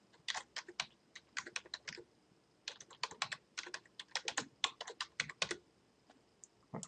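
Typing a group name on a computer keyboard, quick bursts of crisp key clicks close by in irregular clusters with short pauses between them, no voices.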